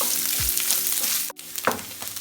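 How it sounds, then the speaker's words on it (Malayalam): Coconut slices sizzle and crackle in hot oil in a pan as clam fry is cooked, with a steady close frying hiss, a brief stir or clatter midway, and a short dip before the sizzle resumes. "ഇനി നമുക്ക് അതിനകത്തേക്ക് തേങ്ങാക്കൊത്ത് ഇട്ട് കൊടുക്കാം"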